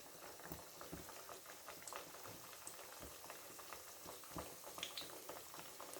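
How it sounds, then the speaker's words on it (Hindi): Sweet, crisp tikiya fry slowly in oil, giving a faint, steady bubbling and soft crackling patter that carries on evenly for several seconds with no talking. "आहिस्ता आहिस्ता बस ये हमारी टिक्कियाँ फ्राई होगी"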